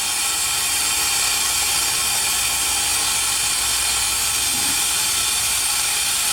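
Loud, steady hiss of steam rushes through a wood-fired boiler system as its main valve is slowly opened, a broad continuous roar close by with no speech.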